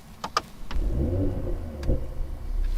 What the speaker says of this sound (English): I will hit downshift and press the button to start.